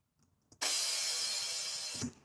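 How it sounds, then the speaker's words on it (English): A single loud crash cymbal hit with a bright, sustained wash that rings for about a second and a half before cutting off. "And then there's just a crash."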